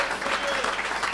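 A church congregation at a Sunday service claps together, acclaiming the word of the Lord. The applause is dense and steady, filling the whole short moment at an even level.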